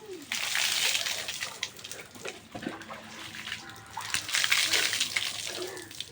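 Water splashing and sloshing as someone bathes, with uneven surges of running and spattering water up close and faint voices in the background.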